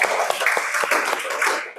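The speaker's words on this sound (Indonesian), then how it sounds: "Tepuk tangan buat kita semua." A class of young schoolchildren clapping together in a classroom, a close, busy burst of many hands that holds steady for under two seconds and then tails off quickly, with a few individual claps standing out.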